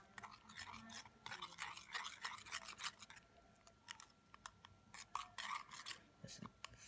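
Red food colouring being stirred into a thick jelly mixture for jelly candy bars, giving a soft, rhythmic scraping and rubbing sound that repeats steadily throughout at close range.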